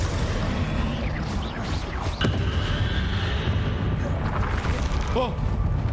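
Confringo explosive spell in Hogwarts Legacy, a burst of fiery blasts in the middle of a loud, busy stretch of game combat, with a sharp crack partway through and magical whooshes layered over a steady rumble.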